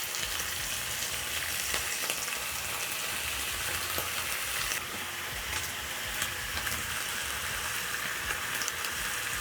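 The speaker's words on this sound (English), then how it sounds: "on medium heat I'm going to add a little bit of cooking oil because I'm making my bacon" Bacon frying in cooking oil in a pan on a stovetop over medium heat, giving a steady dense hiss and crackle that continues unbroken, close and fairly loud, with no voices.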